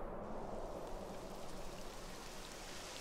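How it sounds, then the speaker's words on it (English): Rain begins falling in Dragon Quest XI, a soft, steady patter and hiss that stays faint and even throughout with no voices. "It would have to go and start raining"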